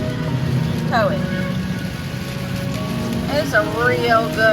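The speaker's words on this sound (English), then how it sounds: "So this is our first time driving in rain" Rain patters steadily on an RV while it is driven through a downpour, a continuous hiss with voices talking over it.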